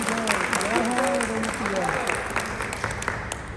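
Loud applause from an audience at a corporate event rolls on steadily, a dense wash of clapping while a speaker's voice carries over the start.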